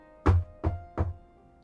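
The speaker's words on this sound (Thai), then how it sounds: "ทันใดนั้นมีเสียงเคาะประตู" Three firm knocks on a door, used as a sound effect in a Thai audio drama reading, are spaced evenly and land close and hollow against a quiet background.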